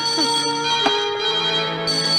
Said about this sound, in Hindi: सर, फोन की घंटी।